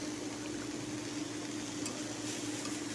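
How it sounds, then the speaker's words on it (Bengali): Motor kalai greens fry in a pan while being stirred, producing an even, continuous sizzle over a low steady hum, with faint scrapes now and then. "সুন্দরভাবে নেড়ে চেড়ে দিব।"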